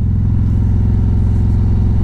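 A Harley-Davidson Ultra Limited motorcycle engine gives a steady, deep, throbbing rumble at close range, with no talk over it.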